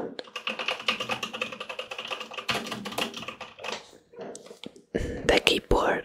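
Quick, irregular keystrokes tap away on a laptop keyboard beneath a quiet whispering voice, with a few louder clicks and pauses near the end.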